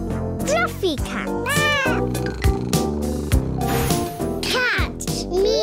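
Cartoon cat meowing in a children's show, several bright rising and falling meows over a busy musical backing, loud and close, with a voice that may be imitating the cat.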